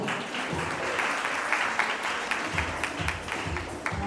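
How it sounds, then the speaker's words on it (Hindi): Applause for the participants of a women's group festival stage performance, steady dense clapping from an audience filling the hall without pause. "तो सभी पार्टिसिपेंट्स के लिए तालियां"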